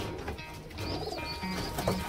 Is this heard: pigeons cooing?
yes